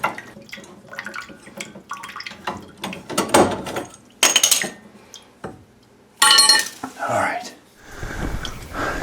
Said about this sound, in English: Open my close quarters tubing cutter.